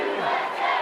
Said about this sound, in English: And now the U.S. crowd shows up.